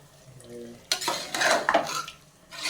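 Garam masala being stirred into chicken biryani in a pot: close scraping and clinking of a spoon against metal in several bursts, with soft background sizzling between them.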